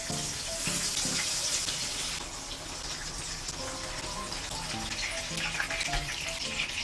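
Sliced eggplant sizzling in a modest amount of oil in a pan, a steady broadband crackle and hiss running throughout, close and continuous with faint kitchen clatter beneath.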